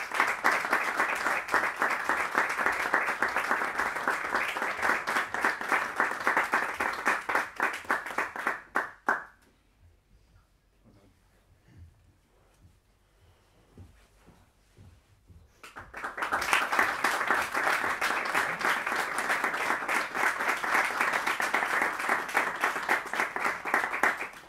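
A recital crowd at a Musikeon concert-series evening claps hard for about nine seconds, falls nearly silent for several seconds, then breaks into a second long, even round of applause.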